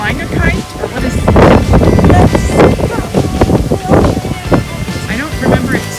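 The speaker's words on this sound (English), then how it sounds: "I don't remember it saying it was going to be windy." Strong wind gusting at a campground, buffeting the microphone in loud rumbling bursts while people talk close by throughout.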